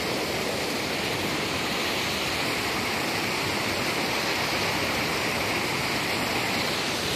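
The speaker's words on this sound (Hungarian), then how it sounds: "Igen, vízesés van." A waterfall roars in a dense, unbroken rush of falling water, loud and close, steady for the whole stretch with no voices.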